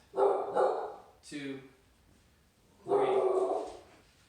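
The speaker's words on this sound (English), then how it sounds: "Sorry for my dog." A pet dog barks indoors: two sharp barks, a whimpering yelp, then a longer burst of barking, close and loud, with a person counting aloud in between.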